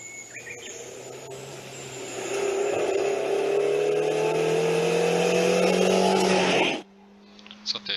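A rally car on a gravel stage, its engine note rising and swelling as it climbs through a run, then dropping sharply away, with faint bird calls and a voice underneath.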